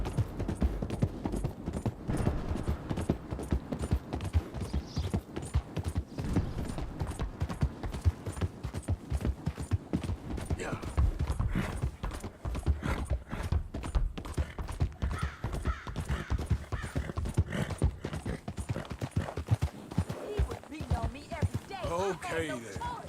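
Steady horse hooves clip-clop at a gallop from a horse in the Red Dead Redemption 2 video game, continuous and close throughout, with game sounds and a brief neigh in the mix.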